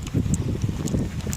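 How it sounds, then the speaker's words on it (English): Strong wind buffets the microphone, a steady low rumbling roar with gusty swells throughout and no other clear sounds. "Probably can't hear me very well because it's like really windy"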